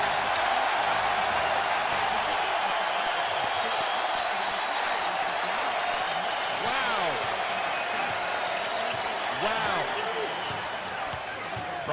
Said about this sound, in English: And the crowd gets on its feet.